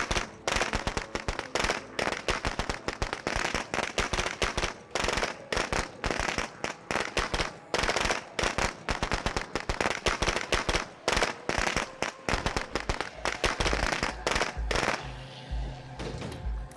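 Firecrackers crackle and pop in State of Decay 2, a long dense barrage of sharp bursts that runs on almost without pause.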